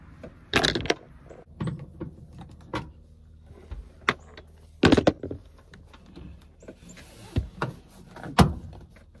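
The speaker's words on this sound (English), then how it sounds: "I think the next thing to do is pull this panel off, start snaking wire" Plastic interior trim panel being pried and popped off a Honda Element rear hatch, a series of sharp clicks, snaps and rattles scattered across several seconds, close and fairly quiet.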